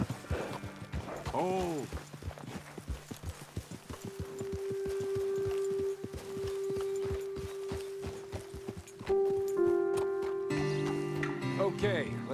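Horse hooves clip-clop in steady walking rhythm in Red Dead Redemption 2, fairly close, with a whinny early on, a low sustained tone and later music, and a brief spoken exclamation.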